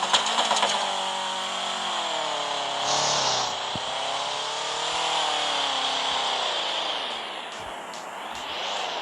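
A car engine in the Roblox video game drones steadily with a wavering, rising and falling pitch and a few clicks, moderately loud and without talk.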